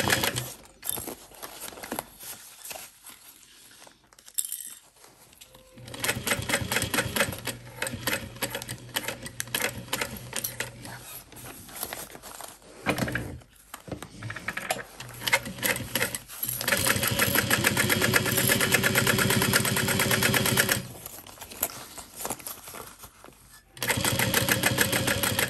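A sewing machine runs in long steady bursts of rapid stitching at a 4.5 stitch length, sewing a backpack just inside a basting stitch, pausing briefly between runs; no voices.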